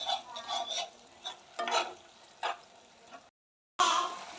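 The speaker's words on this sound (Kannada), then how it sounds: "ಇದೊಂದು ಸ್ವಲ್ಪ ನೀಟಾಗಿ ಮಿಕ್ಸ್ ಮಾಡ್ಕೊಳ್ಳಿ." A cabbage manchurian mixture is stirred in a hot pan, with repeated scraping strokes over a light sizzle, then a brief moment of silence before a louder stir resumes.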